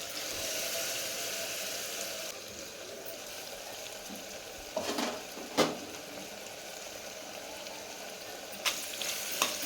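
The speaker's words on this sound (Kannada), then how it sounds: "ಎಣ್ಣೆ ಬಿಡೋವರೆಗೂ ಫ್ರೈ ಮಾಡೋಣ" Ground masala paste frying in hot oil for mushroom biryani, a steady close sizzle and hiss throughout with a few louder crackles and the scrape of stirring.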